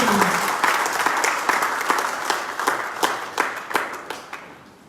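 An audience applauds at a COVID warrior award ceremony, a dense burst of many hands clapping that gradually thins into scattered, separate claps as it dies away.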